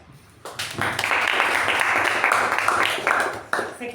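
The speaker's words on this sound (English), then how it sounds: "Let's give a huge round of applause to all of us first." Sixteen meeting members clap together in a burst of applause that starts abruptly and holds steady for a few seconds, close and fairly loud, with a brief dip before it picks up again.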